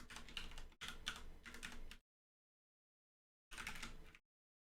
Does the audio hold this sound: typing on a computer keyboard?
yes